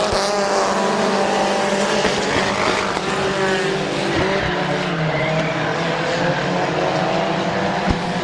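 Compact division race cars roar steadily around the oval at Midvale Speedway, a loud continuous engine drone from several cars with occasional tire scrub and no break.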